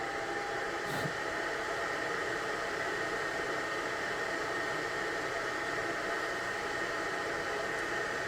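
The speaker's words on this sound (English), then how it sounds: "you turn on our dust collection system." Workshop dust collection system at a sharpening setup, a loud steady broadband rush of air running without change from start to finish, with no talk.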